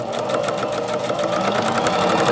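A free-arm sewing machine stitches a fabric seam, a rapid, even mechanical chatter running loud and close for a couple of seconds without a break.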